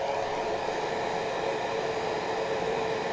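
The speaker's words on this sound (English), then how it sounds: "So then let's get the dryer out again." A hair dryer blows steadily on freshly painted Christmas craft figures, a constant close whooshing roar with no pauses.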